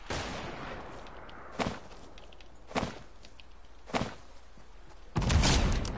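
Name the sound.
pistol gunfire in the video game Fortnite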